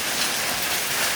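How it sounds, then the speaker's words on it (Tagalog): Heavy rain pours steadily through a windy, lightning-lit predawn storm, a dense, continuous hiss that stays loud and even from start to finish with no voices. "Ito lang ang lakas ng ulan."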